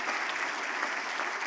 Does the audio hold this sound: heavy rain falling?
no